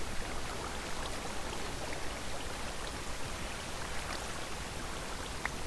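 Rushing waterfall in a Minecraft-style game, a constant soft hiss of falling water heard faint and steady throughout, with no voices.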